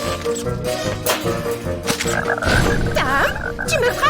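A cartoon frog croaks repeatedly in warbling, rising-and-falling calls over busy animated music, growing louder and more insistent toward the end.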